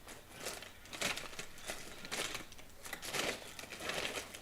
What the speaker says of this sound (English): Shuffles through the Poscas.